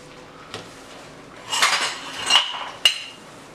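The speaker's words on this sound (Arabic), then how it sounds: "انا هنايا غادي نجيب مقلات. غادي ندهن بالزيت" A metal frying pan is picked up and set down in a kitchen while being greased with oil, giving a few close metallic clanks and clinks with a scraping rattle in between.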